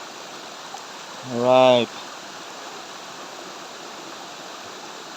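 Laguna Pangil falls give a constant, even hiss of rushing water throughout, fairly loud and steady, with one short spoken word partway through.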